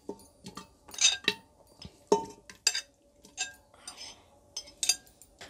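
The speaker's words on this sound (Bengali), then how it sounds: "এখন আমি ধুয়ে রাখা গোস্তগুলো এর মধ্যে ঢেলে দিচ্ছি।" Washed mutton pieces are tipped into a pressure cooker on a stove, giving a run of close metallic clinks and clattering knocks in uneven bursts, with no talking.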